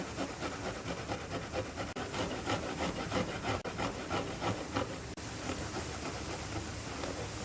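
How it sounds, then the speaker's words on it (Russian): Fresh garlic, a whole head's worth, rubbed against a fine grater for meat to be baked in coals, giving a steady, close, continuous rasping scrape with no voice over it. "Тоже натрем на мелкой терке."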